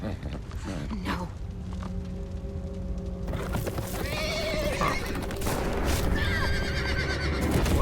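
A horse whinnies during a tense scene in The Walking Dead: The Final Season video game, a loud neigh with hoof clip-clops over a dark, droning game score, with no talk.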